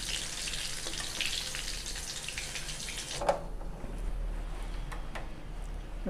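Pieces of elephant foot yam and fish frying in a pan, a dense hissing sizzle that drops off sharply partway through as pieces are lifted out, leaving a softer fry with a few light knocks.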